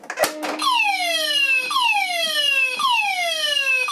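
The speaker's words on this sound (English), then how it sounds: "I have changed the tone on my Banshee sounder to slow whoop" A Banshee fire alarm sounder set to slow whoop tone sweeps upward repeatedly, about once every second and a bit, loud and steady after a brief click at the start, during a shed alarm system test.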